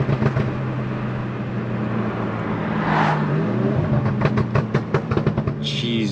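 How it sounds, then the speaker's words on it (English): Engine and exhaust of a Kia Stinger heard from inside the car, a steady low drone that rises in revs and ends in a quick series of sharp pops and bangs. "I forget how loud these pop and bangs are."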